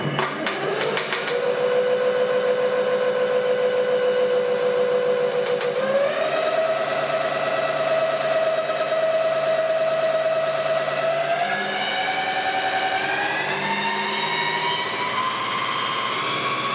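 A powerful RGB PC fan spins at full speed with a loud, steady jet-like whine whose pitch steps upward a couple of times, running alone and close up without any talk.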